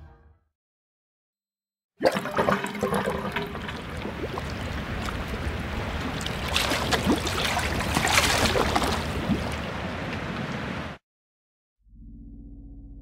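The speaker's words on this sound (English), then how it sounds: "this bath's full of red water, so let's just go ahead and pull that chain" In Forbidden Siren, a chain is pulled and a bath of red water drains: after silence, a sustained gurgling, splashing wash of water runs for several seconds, then cuts off abruptly.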